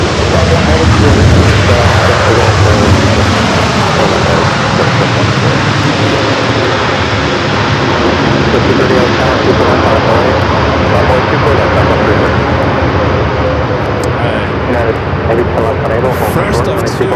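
A corporate jet rolls down runway 24 left at LAX for takeoff, a loud, steady broadband engine roar that fills the whole stretch without letup, with radio or commentary voices mixed beneath it.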